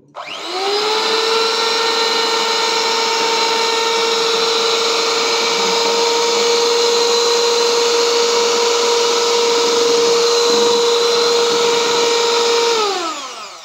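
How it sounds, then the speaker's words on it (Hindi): A blender whirs through a vanilla ice cream mixture of thickened milk, sugar, cornflour and vanilla essence. Its loud, steady motor drone switches on sharply, holds an even pitch for about thirteen seconds, then cuts off, with no talking. "बस आउ थरे ब्लेंड करना पे।"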